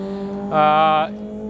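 A 2003 Mazda Miata with a swapped 2010 Acura TSX K24 engine briefly revs, its harmonic engine note climbing for about half a second over a steady idle before settling back.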